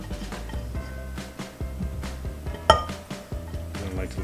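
A spoon stirs rotini noodles with rice and beans in a pot, giving a steady run of soft scrapes and light clinks with one sharper knock near the end.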